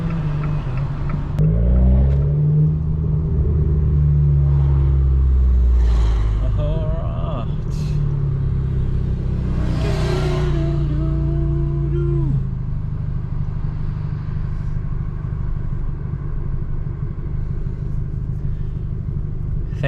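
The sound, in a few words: loud Abarth car engine while driving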